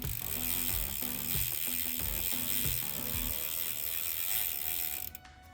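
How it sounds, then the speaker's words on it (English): A bicycle chain pedalled backwards so the freewheel ratchet ticks in a quick, close, steady rhythm, with a few crank thumps, before it stops near the end. "cycle the chain backwards"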